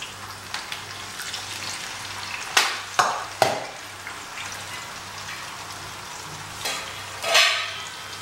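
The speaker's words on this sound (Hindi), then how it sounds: "जब तक मेरी फ़िश फ्राई हो रही है" Fish pieces fry in mustard oil in a pan for a Bengali fish masala, giving a steady close sizzle with a few louder crackling bursts as pieces shift.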